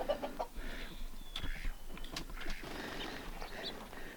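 Dark-colored Icelandic hens cluck and murmur softly at close range during winter morning chores, a steady low chatter of short calls.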